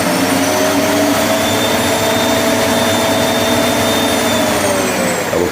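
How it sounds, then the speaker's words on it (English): An Electrolux PURE C9 Animal bagless vacuum cleaner runs on its minimum setting over a thin rug, giving a loud, steady motor whine with a continuous airy roar and no pauses. "We're going to vacuum now this carpet, or this little rug that's about 3 centimeters in thickness."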